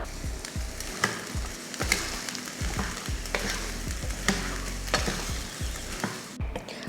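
Masala sundal, boiled legumes with ground spice powder and coriander leaves, stirred in a pan: a steady soft sizzle with repeated scraping strokes of the spoon, close and clear, with no voices.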